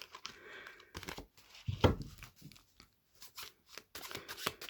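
Tarot cards being drawn and shuffled from a deck: soft, close rustling and papery flicks, irregular and quiet, with a brief louder scrape partway through and no speech.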